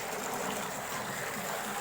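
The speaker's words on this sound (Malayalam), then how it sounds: "നമ്മൾ ഇതിൽ വെള്ളം നിറക്കുകയാണ്." Water pours steadily into a fridge box being set up to hold guppy fish, a continuous rushing, splashing stream close by with no pauses.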